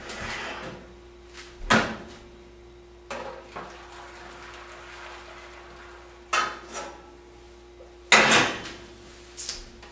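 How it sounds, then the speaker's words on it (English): A pan of boiling water set into the bottom of an oven while pizza dough proofs: several sharp metallic clanks and thuds of pan and oven rack, spaced apart over a quiet room hum. "And I'm also going to add a pan of boiling water to the bottom."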